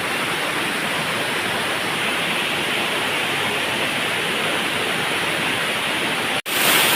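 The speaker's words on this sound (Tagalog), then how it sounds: "back to the waterfall. Very nice." Steady, loud rushing roar of a waterfall inside Lobo Cave in Jiabong, Samar, Philippines, a dense unbroken wash of water noise that cuts out briefly near the end.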